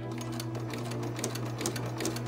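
A sewing machine stitches a centered, or railroad, zipper into fabric, humming steadily and close with a faint rapid needle patter, alone with no talk.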